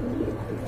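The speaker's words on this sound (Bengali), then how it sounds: "আরেক জোড়া লাহোরি কবুতর দেখতে পাচ্ছেন" A Lahori pigeon pair cooing up close, a brief steady low throaty coo sustained without break.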